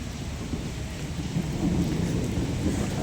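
Steady heavy rain by the Hooghly river bridge at Princep Ghat, Kolkata, with a dense, continuous hiss and a low rumbling undertone throughout, growing slightly louder partway through.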